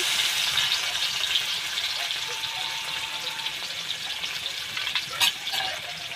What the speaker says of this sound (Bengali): পেঁয়াজটা আমি দুই এক মিনিটের মতন ভাজা ভাজা করে নেবো